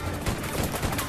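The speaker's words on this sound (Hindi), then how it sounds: "गोलियां चलाते रहो।" Gunfire in a shootout from an action film, rapid overlapping shots rattling in a dense, noisy barrage through the whole stretch, mixed with a chaotic soundtrack.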